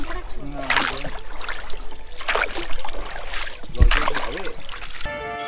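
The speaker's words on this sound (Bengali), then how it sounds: "মাইথন ড্যামের নৌকা বিহার অনেকদিন মনে থাকবে" A boat ride on the Maithan Dam reservoir, with water splashing and lapping against the hull at close range, moderately loud and steady, under speech from people aboard.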